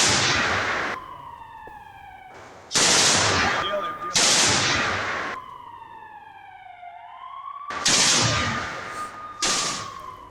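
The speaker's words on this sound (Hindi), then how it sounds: "टैंक्स और गन के साथ युद्धाभ्यास जैसे तेज किया जा रहा है" Heavy gunfire rings out in loud, sharp bursts during military exercises with tanks and guns, each blast trailing into a long echoing decay, with a siren-like descending whine between shots.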